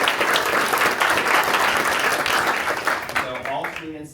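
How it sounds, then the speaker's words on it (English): An audience at a school district board meeting gives a round of applause, a dense burst of many hands clapping that runs strongly and then tapers off near the end as a voice begins to speak. "round of applause to them, that's amazing"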